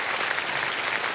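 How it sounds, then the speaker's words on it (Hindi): A short, steady burst of dense applause from a TV game show studio audience, even and sustained with no voices standing out. "और तालियां बज जाएं हमारे कंपेनियन के लिए।"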